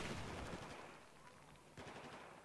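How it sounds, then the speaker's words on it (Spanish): Gunfire in the Battlefield 4 video game, with a rapid, dense rattle of automatic fire that fades slightly and then picks up again in a second burst, fairly quiet in the mix. "me están disparando"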